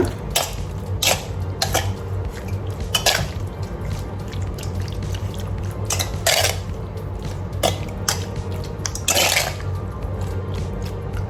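Raw chicken is mixed with salt in a bowl, making close, wet squelching clicks and soft taps at an uneven pace. A low steady hum sits beneath the sounds.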